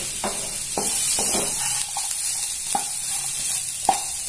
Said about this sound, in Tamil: வெங்காயத்தை போட்டு லேசா கலக்கினா போறோம்.